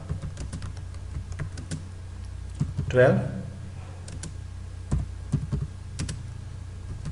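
Computer keyboard typing in quick light clicks under a voice talking, with a brief louder burst of speech midway.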